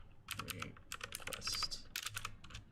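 Rapid clicking of a computer keyboard as a comment is typed, continuous irregular keystrokes close up, with no talking.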